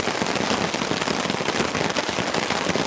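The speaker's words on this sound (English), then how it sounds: "It's absolutely bucketing down." Heavy rain pounds steadily on a camping tent in a storm, a loud, dense, unbroken patter that fills the space close around.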